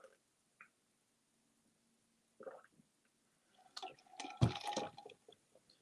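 Water is poured or sipped during a break in a live talk, heard as a few faint, close liquid sounds and gulps with a clearer burst toward the end, no speech.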